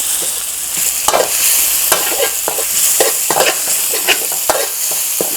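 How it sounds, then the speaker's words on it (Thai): Chili and garlic stir-fried in a pan for a Thai basil chicken and glass noodle dish, with steady sizzling and repeated sharp scrapes and clinks of the spatula against the pan, close and loud, with no talking. "ก็ผัด นะครับ ให้พริกแล้วก็กระเทียมของเรา หอมแล้วก็สุก"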